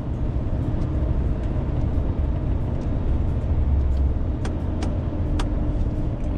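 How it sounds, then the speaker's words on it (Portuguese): A Scania truck on a mountain road descent near Morretes, its engine brake holding back the load with a continuous loud low rumble and drone from the cab, plus a few faint clicks. "Só administrando aí os estágios do freio motor."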